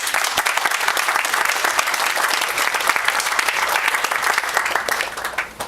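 Sustained, loud applause from an audience at a national day embassy ceremony, steady clapping throughout with no break.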